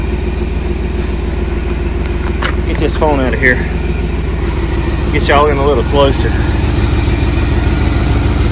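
A 1979 Jeep Cherokee with an AMC engine, revived after years sitting in the woods, idles steadily with a low, even rumble throughout while someone talks nearby.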